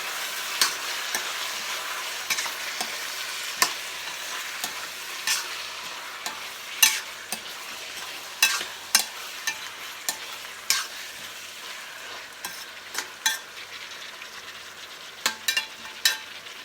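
Chicken kaldereta stirred in a pan on the stove, with a steady low sizzle of frying broken by repeated sharp scrapes and clinks of a utensil against the pan at irregular intervals, close and fairly quiet, no talking.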